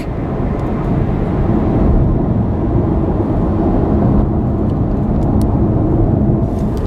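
A Chevy Bolt electric car accelerating hard, heard as a steady loud broadband road and wind roar with a faint electric whine, sustained throughout with no voices.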